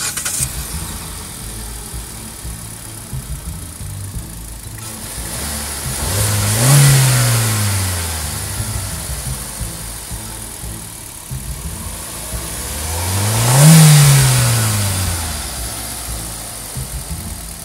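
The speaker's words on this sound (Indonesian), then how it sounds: "Kita coba start dulu mesinnya." A Kia Picanto GT-Line's 1250cc Kappa engine starts and idles steadily, then rises through two distinct revs several seconds apart before settling back to idle each time, close and clear with no talking.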